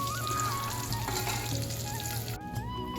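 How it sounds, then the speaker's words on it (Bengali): Potatoes frying in oil over a wood-fired clay stove, a loud, continuous close sizzle that crackles steadily for the whole stretch. "এখানে এই যে আলু ভেজে নিচ্ছি"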